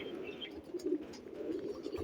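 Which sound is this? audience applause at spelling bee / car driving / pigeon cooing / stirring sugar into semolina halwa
pigeon cooing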